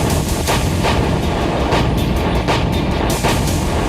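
Heavy mechanical rumble from a T-90 MS armoured tank, loud and steady for a few seconds, with repeated clanking bursts over a dense low roar.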